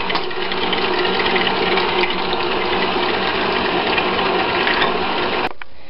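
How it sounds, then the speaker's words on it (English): Electric mixer beating eggs into a sugar and butter mixture for pineapple upside-down cupcakes, a steady loud whirring drone that runs continuously for several seconds and then cuts off abruptly near the end, with no talking. "So the eggs have been beaten into your sugar and butter mixture"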